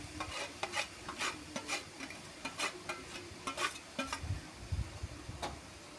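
Semolina and sugar being stirred into carrot halwa in a pan, a steady run of scraping, clicking spoon strokes over a soft sizzle, close and moderately loud, no voices.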